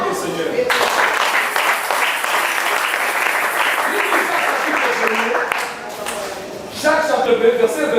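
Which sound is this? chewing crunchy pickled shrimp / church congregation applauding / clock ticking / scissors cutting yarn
church congregation applauding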